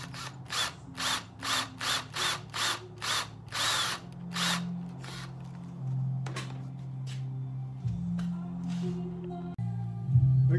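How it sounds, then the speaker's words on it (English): A power drill marks a small dimple on the barrel lug of a wall gun, starting with a rapid series of short, separate bursts, then settling into a steadier, quieter whir with a few further brief pulses, close by with no talk. "I've got the drill chucked up, and all I'm going to do is insert it into the hole here and just mark the barrel lug"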